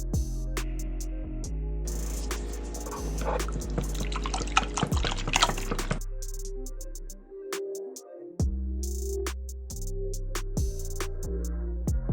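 An egg mixture is poured over bread for a crockpot French toast casserole, giving soft liquid trickles and drips amid clinks and light kitchen handling noises, close and fairly quiet.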